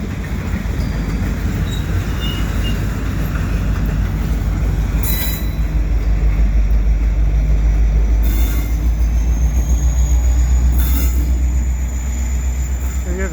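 A CN welded rail work train backs along a lead track in winter, pushed by an SD70M-2 locomotive: a loud, steady rolling rumble with periodic wheel squeals and a high whine.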